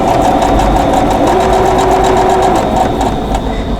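A sewing machine pieces fabric for a quilt block, running loud and close in a rapid, continuous stitching rhythm with a steady motor hum throughout, no voices.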